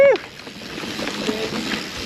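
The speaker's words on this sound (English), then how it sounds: "A little bit of river wash." A mountain bike splashes through river water on a cross-country race course, a continuous close rush of spray and wash that starts with a short tonal squeal.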